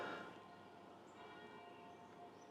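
Church bells chime noon across Castelrotto, a small Italian mountain town, heard from down by the walls as a soft, distant wash of ringing tones over quiet outdoor ambience.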